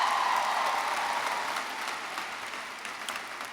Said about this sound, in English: please join me with a round of applause to our faculty and staff